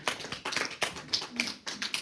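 An audience at a candidates forum for a 2026 state delegate primary gives brief, scattered applause, a few loose bursts of clapping over about two seconds in a large room.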